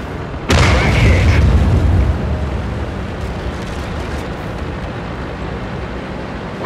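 Enemy tank destroyed in a tank battle video game, erupting in a loud, close explosion with a heavy low boom that gives way to a sustained rumbling roar and crackle fading slowly over several seconds.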